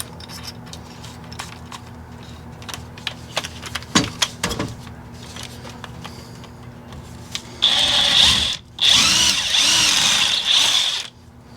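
Handling clicks and knocks give way to a loud power drill with a three-eighths-inch wood bit whirring through wood in two sustained bursts with a short pause between them.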